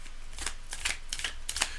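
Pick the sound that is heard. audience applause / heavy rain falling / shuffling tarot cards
shuffling tarot cards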